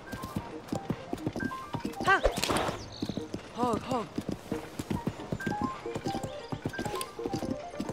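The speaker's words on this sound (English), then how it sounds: "This horse is really, really quick." A horse gallops in The Legend of Zelda: Tears of the Kingdom, its rapid, even hoofbeats running throughout, with a couple of whinnies partway through and a person talking over the sound.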